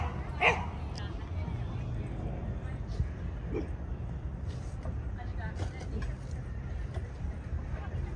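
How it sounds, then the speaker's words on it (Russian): Dogs bark and yip while playing in Central Park, Manhattan; a few short barks stand out over a busy outdoor murmur, with people talking nearby. "Смотри, как они играют, собаки."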